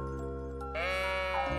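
A sheep bleats inside an Undertale fangame, a single drawn-out game bleat rising in a steady tone over a continuous bed of game music, loud and clear for over a second before cutting off.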